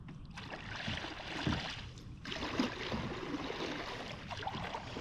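A World of Kayaks WK 500 sea kayak is paddled on open water, with soft splashes and gurgles as the blades dip in, two stronger strokes standing out over steady water noise.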